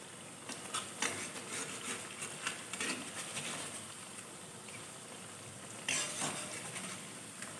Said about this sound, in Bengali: এটা আমি বাকিগুলো দিয়ে ভেজে নিচ্ছি